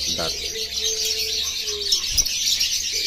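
A Biola PB Ewing lovebird chirps in a dense, steady high twitter with brief sharper calls, close and continuous, with a faint voice and low hum beneath.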